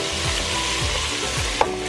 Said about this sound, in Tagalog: Ibuhos ang marinade sauce sa kaldero at hayaang kumulo ng 2 minuto hanggang sa magbawas ng sabaw.